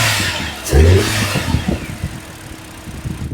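A 2026 Hyundai Grand i10 Sportz petrol engine is blipped up from idle in one sharp, loud rev close to the microphone. The revs then settle back to a rough, pulsing idle.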